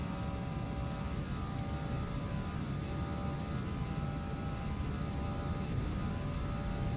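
Simulated Aerosoft Airbus engines in Flight Simulator X spooled to takeoff thrust, a constant, loud, dense engine roar with a steady whine layered above it, unbroken for several seconds with no voices.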